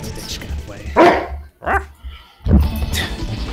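Dog barking indoors in a room: several sharp, loud barks in separate bursts with short yips between them, close to the listener.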